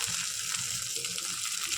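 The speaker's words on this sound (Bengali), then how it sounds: "মাছটাকে খুব সুন্দর করে এখন ভেজে নেব" Fried fish goes into a frying pan of hot oil with spices, giving a steady, close sizzling hiss throughout the short moment.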